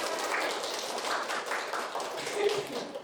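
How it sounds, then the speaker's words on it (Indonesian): A small group in a school group-guidance session claps together in a brief, dense patter. The sound is fairly soft and continuous for about three seconds. "Tepuk tangan untuk kita semua."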